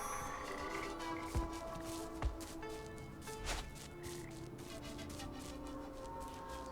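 Frogs croak in the video game Papo & Yo against a steady ambient bed, with a few louder thuds and croaks at irregular intervals and no speech.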